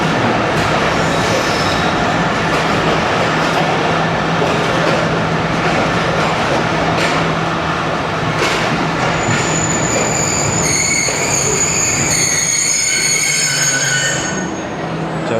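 Awami Express train rolling past, a loud, steady rumble of wheels and carriages with high metallic squeals rising toward the end before the noise eases off.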